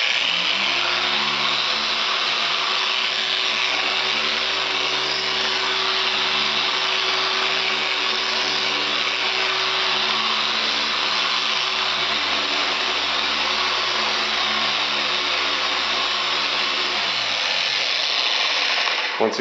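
An electric polisher runs steadily for about 17 seconds while spreading wax on a Ferrari F430, giving a loud, continuous motor whine with a low hum. It winds down near the end with no talk over it.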